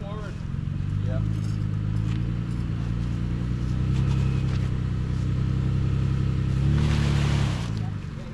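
A Nissan Frontier Pro-4X truck idles and rolls slowly forward on a muddy off-road trail, its engine a steady low rumble that swells slightly near the end, with voices talking over it.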